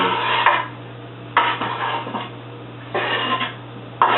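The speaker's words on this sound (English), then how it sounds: "I mix all that into the meat mixture here." Bell peppers, red onion, garlic, serrano and banana pepper being mixed into a Spanish meatball meat mixture, with a few bursts of bowl-and-utensil scraping and clatter, close and moderate, separated by quieter stretches over a low hum.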